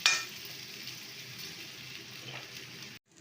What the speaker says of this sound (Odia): ମୁଁ ସେଥିରେ କଲରାକୁ ପକାଇଦେଲି।